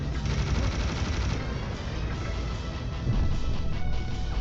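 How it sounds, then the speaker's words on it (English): Rapid continuous fire from the chain gun in Serious Sam: The First Encounter, a loud dense rattle of shots that runs without a break through the whole stretch over a busy game backdrop. "you're gonna use the chain gun to destroy his projectiles"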